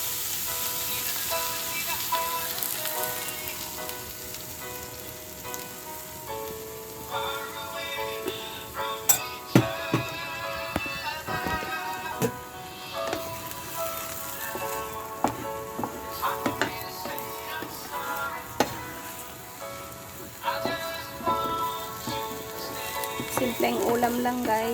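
Lettuce and egg frying together in a pan, a steady sizzle with occasional clinks and scrapes of a utensil, a voice talking intermittently over the cooking.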